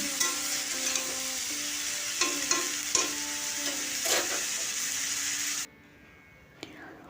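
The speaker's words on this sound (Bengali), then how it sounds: "নুন দিয়ে ভালো করে কষিয়ে ফুলকপি আর আলুকে আমি সেদ্ধ করে নেব ভালো করে নুনটাকে মিশিয়ে নিই" Cauliflower and potatoes with salt are stirred in a pan: repeated scraping and clinking strokes over a bright sizzle, which then cuts off abruptly, leaving near silence and one last knock.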